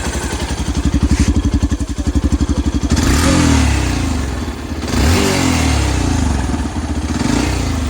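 A Yamaha FZS Fi Hybrid motorcycle engine turns over and settles into a fast, throbbing idle, then revs up in two loud surges before dropping back, heard up close.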